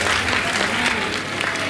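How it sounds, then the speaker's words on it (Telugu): Audience applause fills an awards ceremony hall, a dense, loud and steady wash of clapping from many hands throughout, with faint crowd murmur underneath. "ఇప్పుడు ఒక్కసారి చప్పట్లు కొట్టండి"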